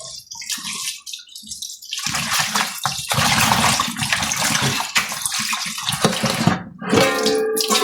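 Tap water runs into a sink while food is rinsed clean before cooking, a steady close splashing flow that starts after a short pause and continues with brief breaks and clattering near the end.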